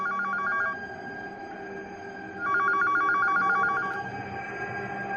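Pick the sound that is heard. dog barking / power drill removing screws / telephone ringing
telephone ringing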